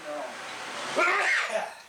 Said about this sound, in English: My sneezing.